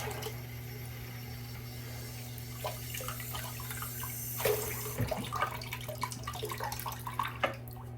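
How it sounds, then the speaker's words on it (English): Hot tap water runs steadily onto a puck of V shave soap by Catie's Bubbles, a continuous splashing wash over a low hum, with small drips and knocks in the second half. "I'm actually gonna get some hot water on this soap"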